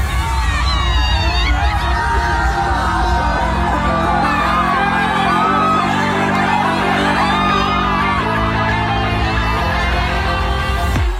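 A large crowd at a BJP election rally in Bengal, a constant loud roar of cheering and shouting with whoops, while steady music or drumming runs underneath.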